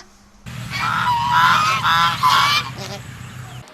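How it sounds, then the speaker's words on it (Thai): Domestic geese honk loudly and repeatedly in a near, harsh chorus of overlapping calls, rising and falling for a few seconds before fading to quieter background sound. "แต่พวกพี่ห่านชอบร้องเสียงดัง น่ากลัวมากเลยนะคะ"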